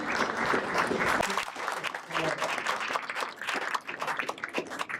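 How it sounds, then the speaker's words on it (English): Audience applauding volunteers on stage at a pie festival, a dense steady clapping crowd filling the whole stretch with a brief dip in the middle, moderately loud and close. "Give them all a round of applause, please."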